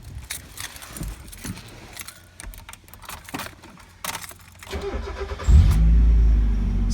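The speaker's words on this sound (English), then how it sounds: "I can start it up for you and you can hear it run." A 1996 Mazda Miata engine cranks and catches after a few seconds of keys jangling and small clicks inside the car, then settles into a steady, close, low idle that continues to the end.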